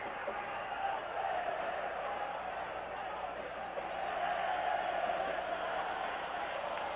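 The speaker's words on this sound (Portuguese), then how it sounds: "Torcida do Flu canta sua vitória parcial" Fluminense supporters sing together in a football stadium, a steady distant crowd chant rolling on without a break across the whole stretch.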